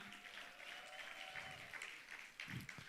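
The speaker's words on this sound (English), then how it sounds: "A round of applause for her." Applause from a graduation ceremony audience greeting the founder, fairly faint and uneven clapping with a low hum and a few louder bumps near the end.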